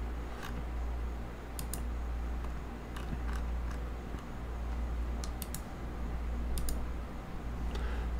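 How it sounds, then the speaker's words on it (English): Scissors trim paper in a country-kitchen paper towel holder craft project, giving a handful of sharp, brief snips spaced irregularly over a steady background hiss. "Let's get our scissors in there,"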